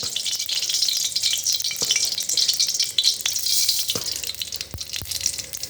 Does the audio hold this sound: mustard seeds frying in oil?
yes